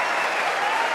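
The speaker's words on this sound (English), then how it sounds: "Unbelievable, the reception, and they're still cheering this crowd." Crowd cheering and applauding steadily at the 2017 Masters snooker final between Perry and O'Sullivan, a dense, loud, continuous roar of clapping filling the whole moment without pause.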